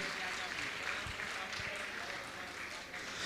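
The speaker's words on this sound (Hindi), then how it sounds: "आपकी तालियां लगातार बजती रहें, बातचीत न करें, तालियां बजाकर अभिनंदन कीजिएगा इनका।" Faint crowd applause greeting a guest at a Jain religious lecture, a dense, even clapping texture that goes on for a few seconds with a voice speaking over it.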